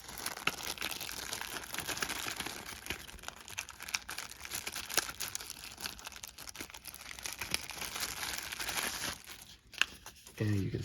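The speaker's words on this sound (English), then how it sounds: "Comes in a little Ziploc bag." A plastic Ziploc bag holding a magnetic watch band crinkles and rustles steadily at close range for several seconds, with continuous dense crackling, a few sharper crunches and a brief pause near the end.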